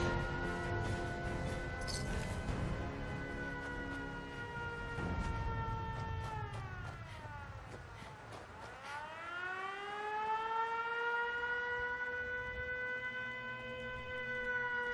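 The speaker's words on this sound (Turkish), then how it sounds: "Sirenler çaldı" Rising and falling civil-defense style sirens wail in Fallout 4, several overlapping tones sweeping up and down continuously, loud and sustained through the whole stretch with a dip and re-rise midway.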